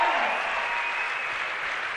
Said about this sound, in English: Big cheer from the crowd and well earned.